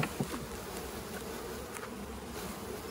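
A big pile of honeybees, four pounds of them being brought home to a hive, fills the air with a steady, dense buzzing that stays loud and close throughout, with no voices over it.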